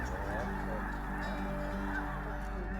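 A large flock of snow geese honks in flight at Freezout Lake, with many overlapping calls forming a constant distant clamor over a low steady rumble.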